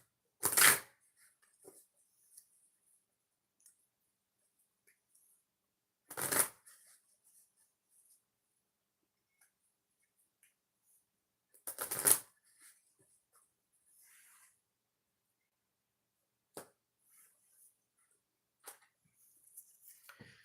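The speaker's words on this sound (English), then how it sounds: "Got to shuffle the karma deck." A karma oracle card deck is shuffled in three quick riffling bursts spaced several seconds apart, with soft clicks and handling noises in between.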